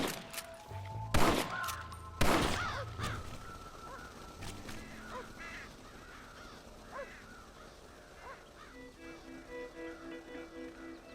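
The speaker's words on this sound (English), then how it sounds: "Damn crows!" Crows caw repeatedly in the video game Red Dead Redemption, with loud bursts near the start that sound like gunfire, then scattered calls over a quieter outdoor ambience.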